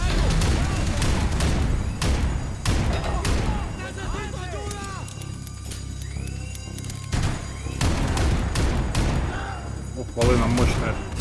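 A powerful revolver fires in Max Payne 3. Several loud, sharp shots crack up close amid other game noise, while voices talk between and over them.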